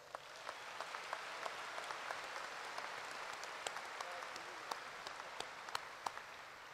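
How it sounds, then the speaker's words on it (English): A large audience at a spring university commencement applauds faculty leaders, a faint, distant wash of steady clapping with a few sharper individual claps standing out near the front. "Please join me in giving a round of applause"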